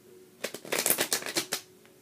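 A quick riffle of a tarot deck, a dense burst of crisp papery slaps lasting about a second, close and fairly loud, then quiet.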